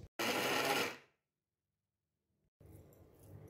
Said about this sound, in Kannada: ಇದನ್ನೊಂದು ಮಿಕ್ಸಿಗೆ ಹಾಕೊತಾ ಇದ್ದೇನೆ. ಈಗ ಇದನ್ನು ಒಂದು ಚೂರು ಗ್ರೈಂಡ್ ಮಾಡಿಬಿಟ್ಟು ಸ್ವಲ್ಪ ಪುಡಿ ಮಾಡ್ಕೊಳ್ಳೋಣ.